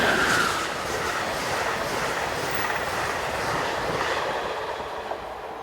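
Amtrak Train 79, the southbound Carolinian passenger train, passes in Maryland as a loud, steady roar of rolling wheels with rhythmic clatter and a brief high squeal at the start.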